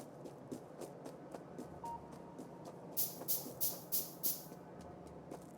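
A train arrives in the factory-building game Factorio, a low rolling rumble with faint rhythmic ticks, then a run of five loud, evenly spaced hissing bursts near the end.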